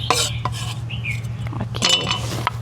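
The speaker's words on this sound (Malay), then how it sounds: "Tumbuk serai." Lemongrass pounded for tom yam in a kitchen, heard as a few sharp knocks and clinks spread over a couple of seconds above a steady low electrical hum, with no talking.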